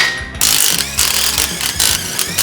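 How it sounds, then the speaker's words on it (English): Impact gun spinning chrome sockets on a trashed small-block Chevy engine, sounding in loud repeated buzzing bursts with brief gaps between them, no talking. "Always remember, chrome sockets and impact guns."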